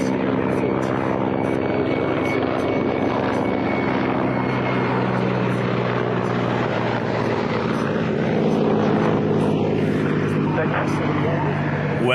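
A Mil Mi-8 helicopter gives a loud, steady rotor and turbine roar that stays constant and close throughout.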